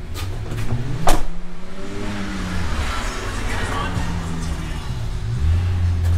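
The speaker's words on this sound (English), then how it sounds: "I got people racing cars down the street" A car engine revs and roars past at close range as cars race down a residential street, with a steady motor rumble and a brief sharp knock near the start.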